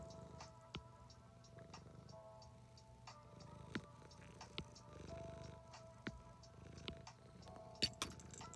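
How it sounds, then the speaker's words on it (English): A pet cat purrs softly and steadily throughout, close by and quiet, with occasional light clicks and taps over a faint indoor hum and no talking. "Can you hear her purr?"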